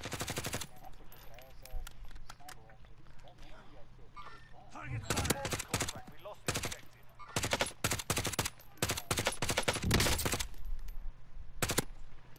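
Automatic and single gunfire bursts from a Call of Duty: Warzone firefight in a downtown area, loud and repeated in clusters, with game sound and voices talking in between.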